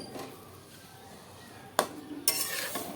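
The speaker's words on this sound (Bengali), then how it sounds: "এটাকে সব কিছু দিয়ে ভালো করে নেড়ে চেড়ে মিশিয়ে দিচ্ছি" Spiced chalta (elephant apple) pickle being stirred and mixed in a pan, with soft scraping, a sharp utensil clack against the pan partway through and louder scraping after, close and fairly quiet.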